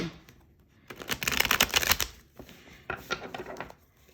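Tarot cards are shuffled in two quick riffling bursts, crisp and close, separated by a brief pause.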